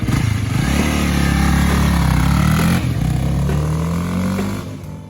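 A 2022 Honda Rebel motorcycle under way, its engine loud and close with a low, rising drone as it pulls through the gears, a brief shift, then the revs climb again before easing off.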